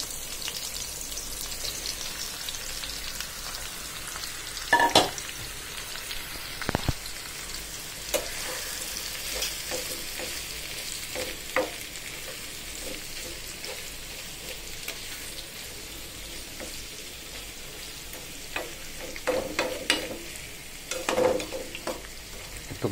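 Spice-coated tengra fish frying in hot oil, a continuous crackling sizzle with scattered louder pops and spits throughout, close and fairly soft.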